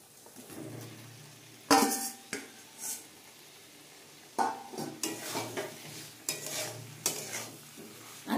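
Fried potatoes being sautéed with banana flower for a prawn mochar ghonto: a spoon scrapes and stirs in a pan over a low sizzle, with several separate bursts of clattering and scraping.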